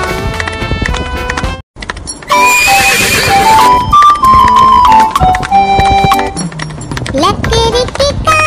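A horse gallops and neighs within a children's song, with rhythmic clip-clop hoofbeats and loud whinnies over music and singing.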